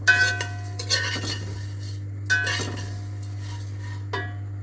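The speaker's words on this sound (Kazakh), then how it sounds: "қызарғанша қуырып алатын боламыз." Vermicelli frying in oil in a heated pot, soft bursts of stirring and scraping with faint sizzle over a steady low hum, a few separate strokes.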